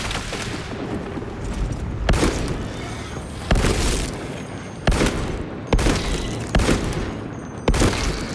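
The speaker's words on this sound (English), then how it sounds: "Deploying fragmentation grenade." Fragmentation grenade blasts in Warhammer 40000: Space Marine 2 boom out in a run of five or six heavy explosions spaced about a second apart over constant battle noise and gunfire.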